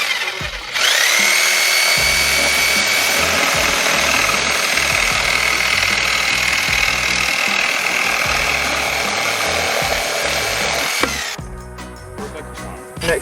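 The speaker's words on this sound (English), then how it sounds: "Reciprocating saw, wood bit. We'll see how it does." A reciprocating saw fitted with a wood bit cuts through PVC pipe, making a loud, steady buzzing roar that runs for about ten seconds before it stops abruptly. Some softer handling noise follows.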